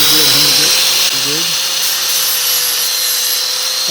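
An 80-grit grinding wheel shrieks loudly against a John Deere L130 48-inch mower deck blade, a harsh continuous close grinding hiss, with a voice briefly over the start.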